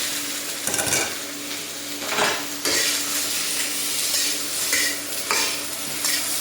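Onions and carrots sear in a very hot wok on an induction burner with loud, steady sizzling, broken by bursts of scraping and clattering as they are tossed.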